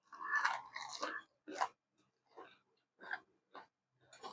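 Crunchy food is chewed and tasted up close, a series of crisp, loud bites and crunches in uneven bursts separated by short silences.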